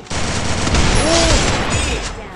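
Gunfire in the mobile battle game Free Fire, a dense burst of shots that blends into one continuous loud roar lasting about two seconds, with no clear gaps between rounds.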